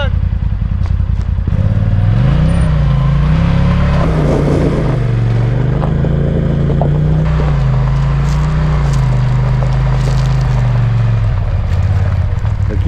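Can-Am Maverick Turbo R UTV engine strains steadily while towing a heavy truck on a kinetic rope, a loud close drone that rises and falls in pitch with clattering, people talking over it.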